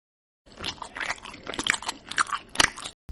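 Crunchy fried chicken is bitten and chewed up close, a run of loud, crisp crunches and crackles at an irregular pace with short pauses between bites, and no talking.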